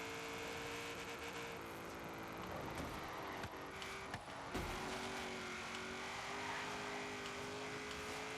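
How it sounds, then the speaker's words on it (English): Car traffic rolls along a road in the racing game Forza Horizon 3, a steady engine drone with sustained tones and a couple of brief knocks, passing vehicles swelling faintly in and out. "This is a lot of traffic."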